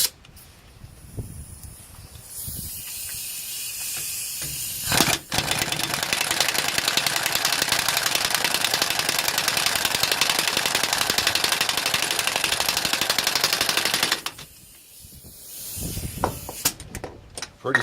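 A pneumatic air tool tightens a shock absorber nut on a Nissan Frontier pickup, a loud close hissing whir running steadily for about nine seconds, with shorter bursts and clanks before and after it.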